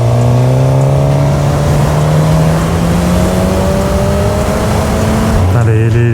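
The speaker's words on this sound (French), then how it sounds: "cette moto qui a une reprise de ouf" A Suzuki GSX-S motorcycle accelerating hard on an open road, its engine note climbing steadily through the revs, loud and close with heavy wind rush, then dropping with a gear change near the end.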